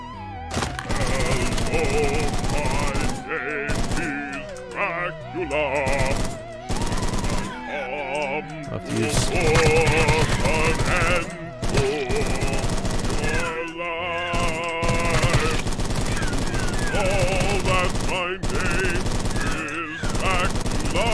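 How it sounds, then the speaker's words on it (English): Rapid gunfire bursts in the retro shooter Chop Goblins, loud and dense, with repeated volleys of shots and short gaps between them, mixed with game music and effects throughout. "Maybe I should try and pump him up full of ammo with this gun."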